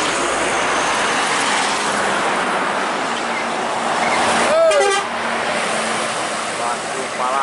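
Steady roar of a large passenger bus passing close by in Indonesia, with a short horn blast in the middle, over constant traffic noise.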